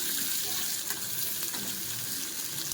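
Bitter gourd frying in a pan of oil, a steady close-up sizzle with faint crackles and occasional stirring scrapes throughout, no voices.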